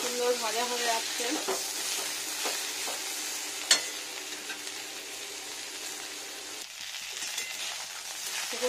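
Potatoes fry and are stirred in a pan after the other ingredients have browned, making a steady close sizzle with scraping stirs and one sharp clink midway.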